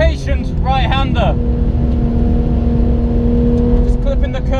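Steady, loud engine drone from a rear-engined Porsche 991 GT3 held at a constant throttle on a race track, with someone talking over it at the start and again near the end.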